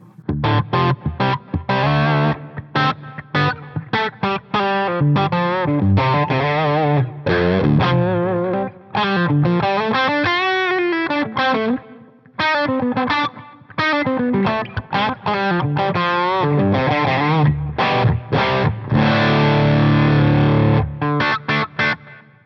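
An electric guitar through a tilt overdrive pedal set to low gain plays a string of chords and single-note lines, crunchy and upfront, with brief pauses between phrases.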